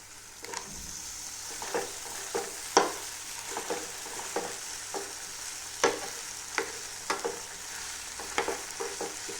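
Roasted, peeled eggplant stirred in a pan for bharit gives a soft, continuous sizzle with repeated scraping strokes of a spoon against the pan at an irregular pace, close by.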